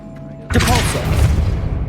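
The Depulso push spell is cast in Hogwarts Legacy, a sudden loud booming blast that lingers as a rushing, crackling roar for over a second after a quiet start.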